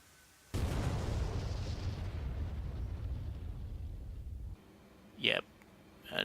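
A JDAM bomb strikes a tank in the DCS combat flight game, giving a sudden loud blast followed by a long, sustained rumbling roar that cuts off abruptly, then two brief whooshing sweeps trail behind.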